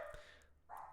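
Faint, distant dog barks come from near a front door inside a house, two short yelps separated by a quiet gap.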